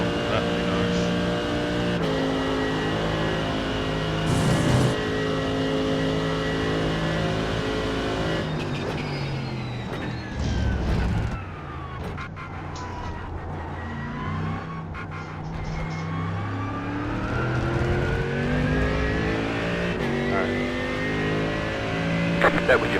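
A Mercedes AMG GT3 race car lapping Spa in iRacing, its engine droning loud and steady with rising shifts through the gears, a dip as it brakes and lifts mid-lap, then revving back up.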